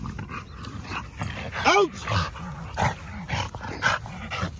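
An American Bully puppy whimpers and yips in short rising cries, several close whines repeating over a steady hum, with a voice speaking around them.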